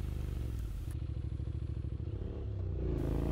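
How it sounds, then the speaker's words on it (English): A motorcycle on a sunny road ride gives a steady throbbing engine drone with a rapid pulsing rumble and a slight rise in pitch toward the end, loud and close without speech. "I get on the bike and go for a ride"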